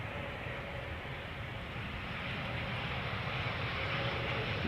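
Embraer 170 airliner at Schiphol's Polderbaan runway in warm weather, a steady broad jet roar held at moderate distance, slowly swelling louder over the seconds with no voices.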